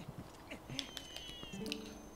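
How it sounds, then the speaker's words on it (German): Cats meow in Zelda: Twilight Princess, several short, faint mews in quick succession with soft clicks and game noise around them. "Und wenn die Viecher jetzt aufhören zu miauzen"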